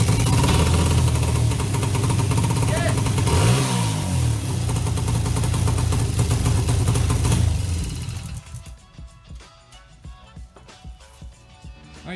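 A just-started engine, run for the first time after long work on a loose engine, revs and runs roughly with uneven surges, then cuts out abruptly, leaving quieter clattering and rustling behind.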